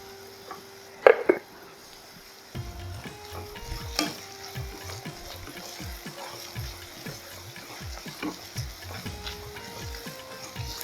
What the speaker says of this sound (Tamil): இது நல்ல கோல்டன் ப்ரௌன் கலர் வர வரைக்கும் நல்லா ரோஸ்ட் பண்ணணும்.